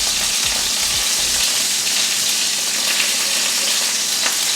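Chicken frying in parsley butter crackles and splatters loudly and steadily in a hot pan, a dense continuous sizzle heard up close with no voices.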